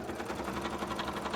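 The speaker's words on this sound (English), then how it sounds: "You're still sewing, aren't you? Yeah, it's just thick fabric, right?" A sewing machine runs steadily through two layers of thick curtain fabric while making tail scales, a continuous close mechanical whir with a low motor hum and no voices.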